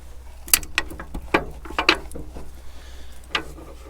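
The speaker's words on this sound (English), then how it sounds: "we are dogged into the front gear. You can see the shaft is spinning counterclockwise as we look at it." Gears inside a Caterpillar Knuckle Buster gearbox clatter as the shaft spins, a series of sharp metallic clicks and knocks at irregular intervals over a low steady hum, close and moderately loud.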